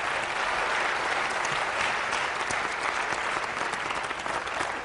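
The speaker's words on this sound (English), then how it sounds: "can we give a round of applause to these three candidates?" Steady, dense audience applause for three candidates at a Kansas Republican Senate debate, a continuous crowd of clapping hands heard from some distance for about five seconds.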